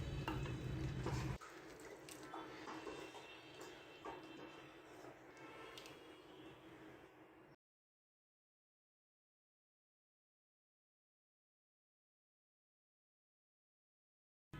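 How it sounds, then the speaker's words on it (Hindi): Mutton curry with garam masala, fresh coriander and chopped ginger being stirred in a hot pan: a louder scrape and clatter at first, then steady sizzling and stirring for several seconds before silence. "अब हम इसे मिक्स करेंगे और प्लेट आउट करेंगे।"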